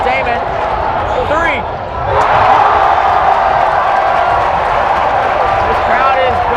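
A basketball crowd roars loudly and steadily at a Chaminade game after a blocked shot and a made three, with sneaker squeaks early on and a sustained swell of cheering.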